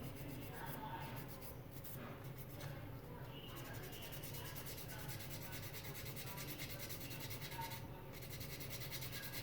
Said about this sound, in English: So I'm just cleaning this up a little bit with some 240 grit sandpaper.